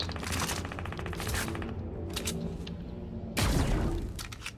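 SMG fire in the video game Fortnite, rapid automatic bursts rattling close and loud, with short pauses between strings of shots and a heavy burst near the end.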